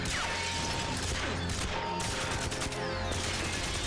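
Rapid gunfire in the 007 Legends video game, with dense, continuous bursts of shots and mechanical clatter that stay loud and unbroken throughout, with no talking.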